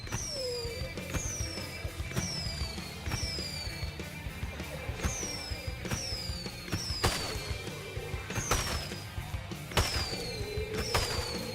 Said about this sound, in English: What a lame little firework that is